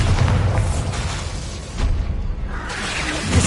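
A Bombarda spell detonating in Hogwarts Legacy, a dense booming blast with a whooshing rumble that swells, dips briefly and surges again, loud and close.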